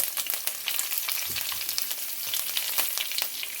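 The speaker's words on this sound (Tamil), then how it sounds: "கடுகு போட்டு கடுகு வடிக்க தொடங்கிட்டு இந்த பெருஞ்சீரத்தையும் போடுறேன்" Mustard seeds, fennel seeds and curry leaves frying in hot oil for a Sri Lankan dried prawn sambal, giving a steady close sizzle with faint crackles and soft stirring.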